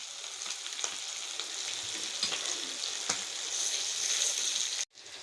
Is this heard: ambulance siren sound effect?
no